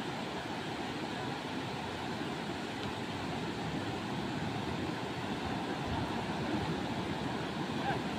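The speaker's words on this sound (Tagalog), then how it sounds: "Malaki-laki pa naman ng alon." Big ocean waves and strong current, a continuous loud wash of broadband surf noise with a steady roar and no distinct breaks, heard close throughout.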